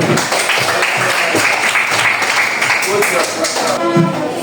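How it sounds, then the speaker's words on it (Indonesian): Applause for a student group's presentation in a classroom lesson on hadith, a dense and steady patter of many hands clapping close by for a few seconds. "Berikan aplaus dulu"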